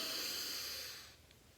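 One long, deep inhale through the nose and throat during a breathing exercise, a close, steady hissing rush of air that fades out after about a second, then quiet.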